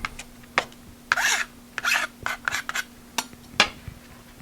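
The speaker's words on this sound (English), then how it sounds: "the next thing we need to do is cut up some onions" Knife chopping onions on a cutting board for a tuna melt, a series of sharp, irregular cuts and scrapes close by, with a steady background hum and no talking.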